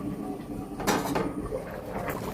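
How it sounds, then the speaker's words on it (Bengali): A lid lifted off a pot of Bengali rui fish curry, a couple of short metallic clanks and scrapes over a quiet kitchen background. "এবার আমি ঢাকাটা খুলে নেব"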